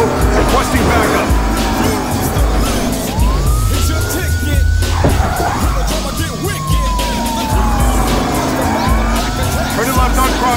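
Police car siren wailing up and down in the video game Battlefield Hardline, rising and falling over loud engine rumble and in-game action, sounding close and continuous.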